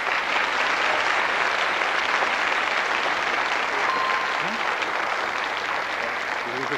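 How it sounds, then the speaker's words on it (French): A studio audience on the French quiz show Questions pour un champion claps continuously and evenly for nearly seven seconds, a full, close wash of applause. "Michel, on vous applaudit à tout rompre"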